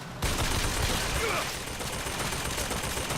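Video game gunfire pours into a turret in a dense, continuous burst of rapid shots that stays loud throughout, like machine-gun fire.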